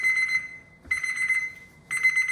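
A kitchen timer alarm rings in three loud, shrill electronic beeping bursts with short gaps between them, close by and with no voices.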